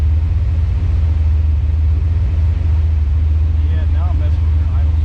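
A Leech Motorsports engine idles at the shop as its idle spark settings are adjusted, giving a loud, steady, deep rumble throughout with faint voices talking underneath.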